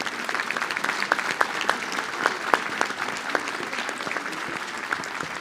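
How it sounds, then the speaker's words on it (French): Audience applause at a mayor's New Year wishes ceremony, a lively mid-sized crowd clapping steadily with sharp individual claps standing out, continuous throughout with no talk. "On peut les applaudir."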